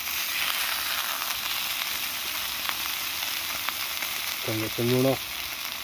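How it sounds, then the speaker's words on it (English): Steaks frying in an extremely hot pan at a hammock campsite outdoors, a steady quiet sizzle running throughout, with someone briefly speaking near the end. "finish these steaks off and get tucked in. As you can see there, the pan is extremely hot"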